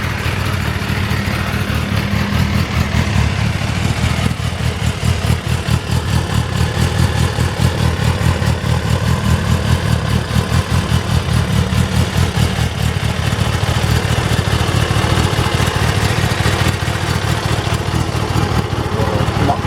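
A new 2021 Kawasaki ZX10R ABS sport bike idles at low RPM after servicing, giving off a steady, even, rapidly pulsing engine note that runs unbroken throughout.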